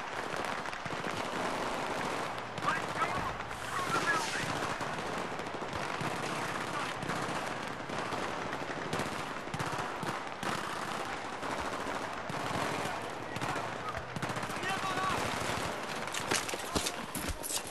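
Battlefield 3 gunfire rattles in rapid automatic bursts almost nonstop for about eighteen seconds, moderately loud, with dense overlapping shots and faint game noise beneath.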